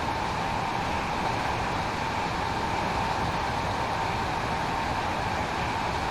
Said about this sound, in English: It's nice to have a proper screaming loud train as well.